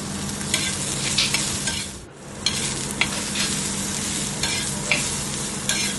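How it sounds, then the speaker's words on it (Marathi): Garlic cloves, ginger and coriander sauté in a pan, a loud steady sizzle punctuated by repeated spatula scrapes and knocks, with one brief dip in the hiss partway through. "पाकळ्या, अद्रक आणि कोथिंबीर टाकून ह्यालाही चांगले परतून घेतलेले आहे"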